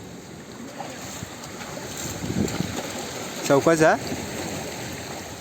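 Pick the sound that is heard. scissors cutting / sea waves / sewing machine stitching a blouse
sea waves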